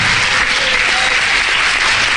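Applause in a church service, a loud, dense roar of clapping filling the whole short stretch without letup.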